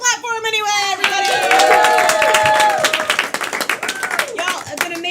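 Applause from a small audience at a live Halloween stage show, dense hand clapping swelling and holding steady for several seconds before thinning out, with some voices and cheers mixed in.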